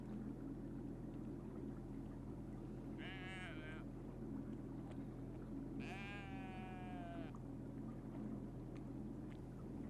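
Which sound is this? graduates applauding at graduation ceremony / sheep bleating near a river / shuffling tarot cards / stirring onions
sheep bleating near a river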